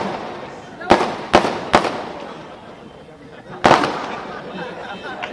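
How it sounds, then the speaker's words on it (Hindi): Firecrackers burst outdoors during a political speech: four sharp, loud cracks, three in quick succession and a fourth a couple of seconds later, over a murmuring crowd. "मैं पटाखे के बारे में बोल रहा।"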